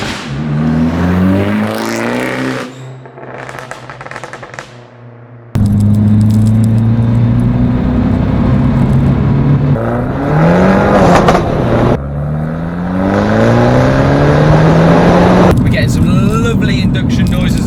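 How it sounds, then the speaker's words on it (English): A tuned Abarth 595 1.4 fitted with a Forge Motorsport induction kit revs hard and close, its engine note climbing and dropping through repeated loud pulls, with induction whoosh between rises and a brief quieter gap near the start. "Induction noises as well from that Forge Motorsport induction kit, as you can hear it."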